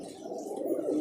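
Pigeons in a loft give a soft, low, continuous coo, close and steady throughout the brief moment.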